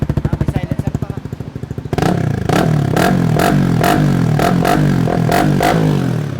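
A Honda WinnerX motorcycle fitted with a Villain exhaust starts with a choppy, pulsing idle that jumps into a loud, throaty drone, punctuated by repeated sharp revs blipping up and down close by.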